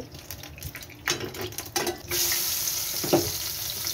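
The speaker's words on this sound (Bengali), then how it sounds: "আমি এগুলোকে ফ্রাই করতেছি" Chicken pieces cut large for biryani frying in a pan, a steady close sizzle that swells after a few clattering stirs.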